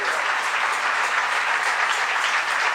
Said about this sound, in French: Tout autant qu'à applaudir bon Dieu